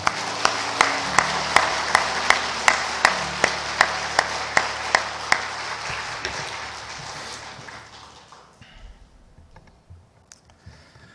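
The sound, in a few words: audience applause welcoming new church members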